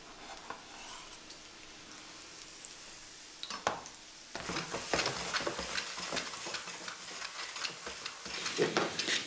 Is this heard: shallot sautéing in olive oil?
yes